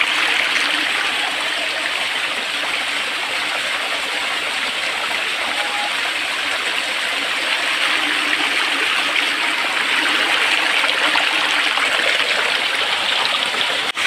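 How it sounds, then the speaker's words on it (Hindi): Waterfall (jharna) water pouring and splashing steadily where people bathe in cold water, a continuous broadband rush heard up close with no talk. "ये है झरना"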